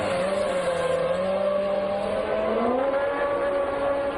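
Late-1990s Formula One cars race past and enter the pits, steady loud engine whine with a slowly shifting pitch, high harmonics layered over a low drone throughout.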